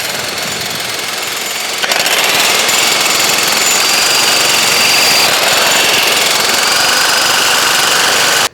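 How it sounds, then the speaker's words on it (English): A loud jackhammer pounds continuously at close range, driving fence piles, its rapid hammering grinding on without pause before cutting off abruptly at the end. "Today, I'm using a jackhammer."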